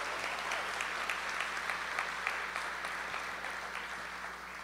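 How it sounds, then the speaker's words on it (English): A crowd at a high school graduation ceremony claps in a sustained, even burst that tapers slightly toward the end, heard from within the hall with a faint low hum beneath. "let's give us a big round of applause"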